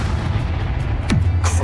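A Bombarda spell explosion in the Hogwarts Legacy video game lands as a heavy boom over a continuous low rumble, with a sharp swooping crack near the end of the short burst.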